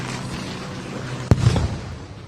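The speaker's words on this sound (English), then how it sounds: "You hear those booms that are likely flashbang grenades going off." A single sharp boom from a flashbang grenade going off at a protest, standing out loudly against a steady background of crowd and street noise, followed by a brief rumbling tail.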